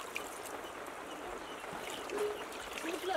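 Cold tap water poured steadily over freshly drained vermicelli (semiya) in a kitchen, a soft continuous trickle and splash that swells slightly toward the end, with no talking.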